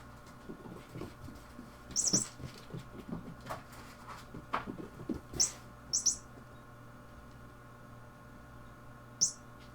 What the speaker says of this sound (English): It is a mouse with a shock sensor in it that squeaks whenever it's hit.